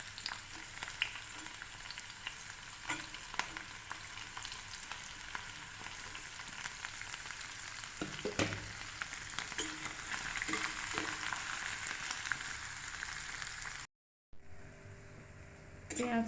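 Cumin seeds and onion hiss and crackle in heated oil at a low, steady level while a person talks over the frying, and the sound briefly cuts out near the end.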